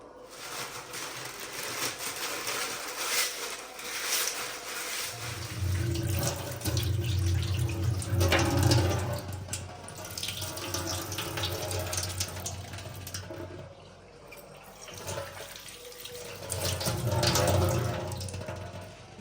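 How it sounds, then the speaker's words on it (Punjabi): Dried coconut and raisins being washed under a running kitchen tap, a steady close splash of water with louder surges as hands move the food, under occasional talk. "ਗਰੀ ਤੇ ਸੋਗੀ ਜਿਹੜੀ ਆ ਨਾ ਉਹ ਮੈਂ ਧੋ ਲਈ ਆ"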